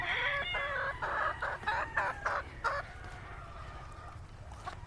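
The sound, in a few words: hens clucking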